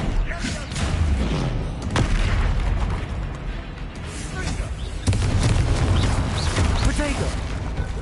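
A Confringo fire spell in the video game Hogwarts Legacy, giving heavy booming blasts and rumbling explosions in dense combat noise, with a strong burst near the middle and voices mixed in.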